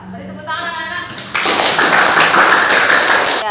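Schoolchildren in a classroom burst into clapping after a brief spoken line, a loud, dense patter of many small hands lasting about two seconds, then stopping abruptly.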